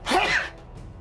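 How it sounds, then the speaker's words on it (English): A single loud, sharp sneeze bursting close up and dying away within half a second, followed by quiet breath. "Sargento, this is no time to be sneezing."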